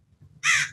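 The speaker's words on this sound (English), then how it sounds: "right now there's some birds chirping in the background." A single short, loud crow caw outdoors, close and harsh, after a moment of quiet low background sound.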